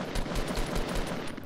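Silenced gold pistol in Fortnite Battle Royale fired in a rapid, steady string of about a dozen muffled shots, each one evenly spaced, up close and fairly loud, with no talking.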